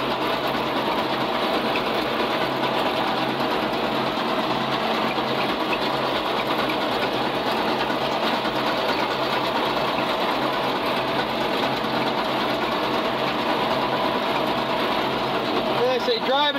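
A hay baler picking up stringy hay and rolling it into bales, a steady mechanical clatter and hum droning unchanged throughout at moderate loudness, with no clear voice.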